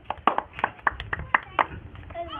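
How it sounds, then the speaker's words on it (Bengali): A small group claps for Samir, the winner of a ball-balancing contest, with a brief burst of scattered, uneven hand claps nearby, followed by a voice speaking. "সবাই একটা সামিরের জন্য হাততালি।"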